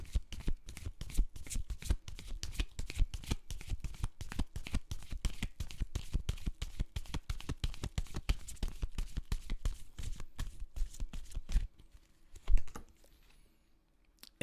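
Tarot cards being shuffled by hand in a steady run of quick riffling flicks for about twelve seconds, close and fairly loud, then a brief pause and a final soft shuffle.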